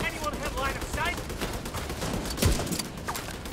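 Gunfire in Tom Clancy's The Division, a dense, steady crackle of shots with a sharp burst near the middle, mixed under game sound and faint voice.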